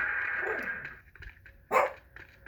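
A dog barks a few times at moderate distance, with one sharper bark standing out near the end amid quiet background noise.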